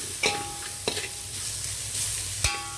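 Spices with turmeric fry in oil in a pan before coconut milk goes in for coconut rice, a steady close sizzle broken by three sharp metallic clinks from a stirring spoon.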